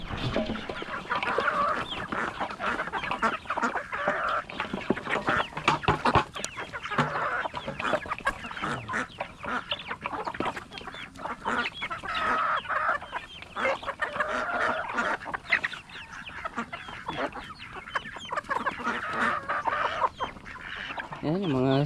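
Rhode Island chicks, now grown, clucking steadily at close range during feeding, with busy overlapping calls and some talk mixed in.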